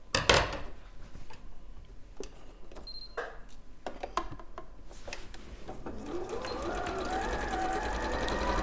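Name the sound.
sewing machine stitching a spring sheep project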